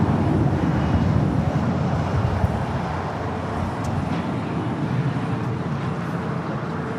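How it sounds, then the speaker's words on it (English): A Boeing 787 Dreamliner arrives on runway 25 left with a loud, steady broadband roar, slightly stronger at first and then holding level. "Your next Dreamliner arrival on 25 at left."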